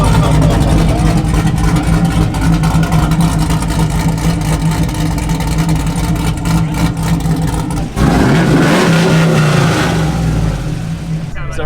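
Custom-built LS1 V8 in a pickup truck runs loud and steady close by, its deep rumble rising in a rev near the end, with people talking over it.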